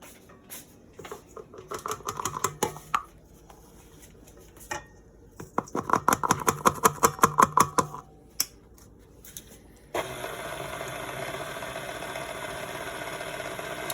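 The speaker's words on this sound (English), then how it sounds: "we have a paddle beater on there today to mix this" Stand mixer fitted with a paddle beater working blueberry muffin batter, a rapid rhythmic slapping and clatter in bursts, then a steady motor whir settling in for the last few seconds.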